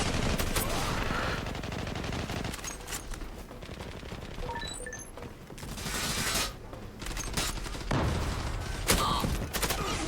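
Rapid gunfire bursts from an online shooter game, Zula, including a Kar 98 rifle, ring out loudly in dense volleys mixed with mechanical clicks and clanks, with no speech.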